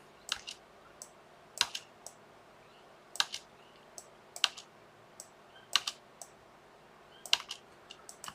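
Computer keyboard typing in short bursts of crisp clicks with pauses between, close and fairly quiet, no talk.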